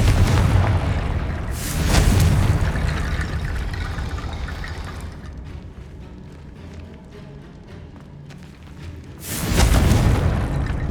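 Confringo spell explosions in Hogwarts Legacy: two loud, close booming blasts, one near the start and one near the end, with a quieter rumbling stretch between them.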